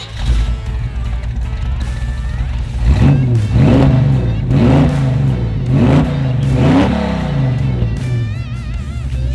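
A 1969 Chevrolet Camaro RS/SS restomod with a 383 stroker V8 idles, then is revved in five or six loud, close throttle blips before settling back to a steady idle.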